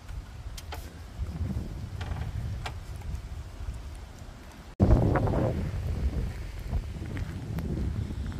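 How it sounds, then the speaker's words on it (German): A fresh northern wind blows around a camper out in the countryside, buffeting the microphone in steady gusts, with a sudden stronger gust midway and faint creaking. "nordisch frischer Wind."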